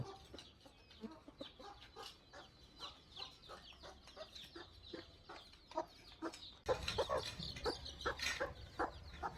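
Backyard hens, Silkies among them, cluck in a steady stream of short calls, fairly quiet and somewhat distant, growing busier and louder toward the end.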